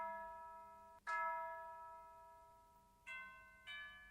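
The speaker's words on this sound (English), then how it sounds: "So I just added a bell that follows all the root notes." Synthesized bell layer in a hip-hop beat following the root notes, sustained ringing tones struck three times with a long decay between hits, clear and alone.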